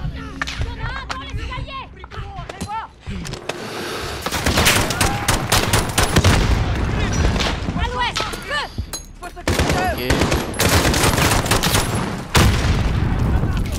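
Dense gunfire fills a Call of Duty Modern Warfare firefight, with rapid volleys of loud shots and booming blasts throughout, near and overlapping, under game voices early on.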